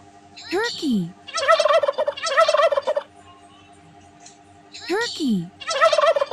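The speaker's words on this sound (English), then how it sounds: "Turkey." A turkey gobbles loudly and close by, its rapid warbling bursts coming in two groups, each led by a short rising call, with a pause of quiet between them.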